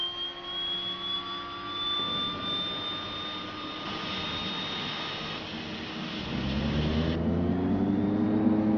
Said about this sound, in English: And we have the first engine, just like before, is on.